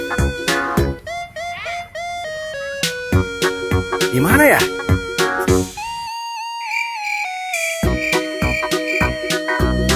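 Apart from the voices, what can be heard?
ondel-ondel street procession music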